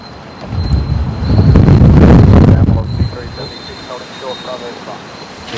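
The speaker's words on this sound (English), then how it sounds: "The wind gusts are blowing me about a bit, so hopefully I do apologise for the camera shake from time to time." Strong wind gusts of 35 knots and more buffet the microphone at Brisbane Airport, a loud roaring rush that swells for a couple of seconds, then eases into a lower rumble.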